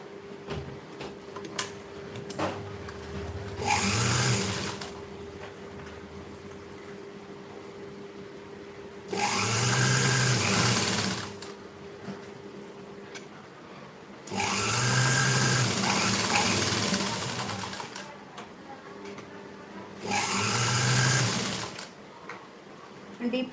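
Sewing machine stitching along the round neckline of a princess-cut blouse, running in four short bursts of a few seconds each, separated by quieter pauses with faint rustling and handling of fabric.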